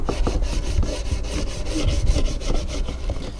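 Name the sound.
scrubbing brush cleaning Boxxer fork lowers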